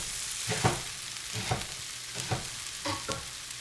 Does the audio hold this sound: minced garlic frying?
yes